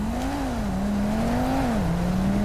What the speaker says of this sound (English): That car's fucking loud